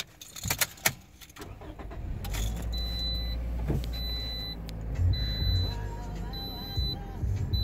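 2013 Toyota Corolla starting up, keys jingling and clicking first, then the engine catching into a low steady idle rumble with a faint repeating chime pattern above it, heard from inside the cabin.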